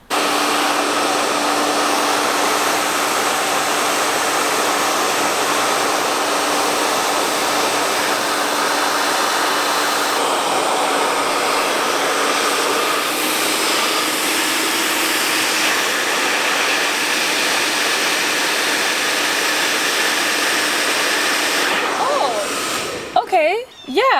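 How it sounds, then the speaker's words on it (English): A hair dryer heating vinyl runs continuously at close range, a loud, even rushing roar that cuts off abruptly with a short rustle at the end. "this is my Ferrari hair dryer"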